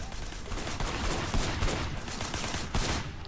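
Gunfire in the video game Sleeping Dogs, a continuous dense rattle of shots with a few louder bursts, steady and fairly close, with no talk over it.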